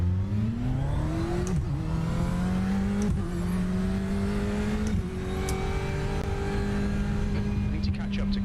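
A Ferrari 488 GTE race car engine in the iRacing sim holds a steady, near, low drone that rises gradually, with brief dips around gear changes. A voice talks over it.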